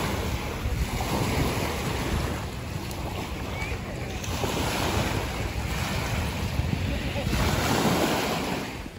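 Waves wash and break steadily along a beach in Ontario, with continuous surf noise and heavy wind buffeting the microphone.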